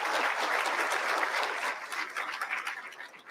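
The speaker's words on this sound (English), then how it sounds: "Let's give a round of applause to Wendy Sled." An audience at a school district address claps in a steady, dense round of applause that stays fairly even, then thins slightly toward the end, heard from within the room.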